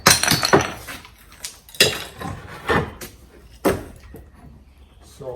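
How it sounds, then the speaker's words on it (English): A Chinese ceramic bonsai pot is struck and smashed, giving several sharp cracking impacts in a loose, uneven rhythm, close by, with quiet gaps and small rattling debris between blows. "So I'm just going to smash the pot"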